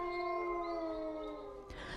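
A wolf howl sound effect: a long sustained tonal wail held steadily for about two seconds with layered harmonics, close and clear, ending in a brief rustling burst.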